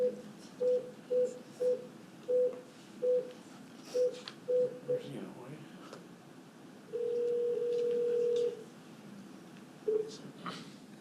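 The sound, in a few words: telephone dialing tones while conferencing in a caller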